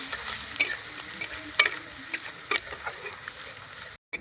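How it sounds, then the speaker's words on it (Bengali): Grated garlic frying in oil in a pan, a soft steady sizzle with a few sharp spatula scrapes and knocks at regular intervals, close and fairly quiet, with no voice. "এবার দিয়ে দেব গ্রেট করে রাখা রসুন রসুনটাকে একটু ভেজে নেব"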